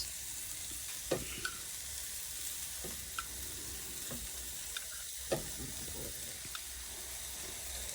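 Crushed tomatoes added to a hot tadka for rajma, giving a steady hissing sizzle with a few sharp pops and spatters scattered through it.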